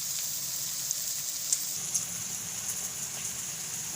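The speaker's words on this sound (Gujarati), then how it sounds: "વટાણાને દૂધીને આપણે આને 2 મિનિટ આને ચડવા દેવું" Peas and bottle gourd sizzle steadily in hot oil in a pan, a close, even crackling hiss with occasional small pops throughout.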